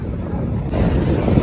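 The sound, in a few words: strong wind blowing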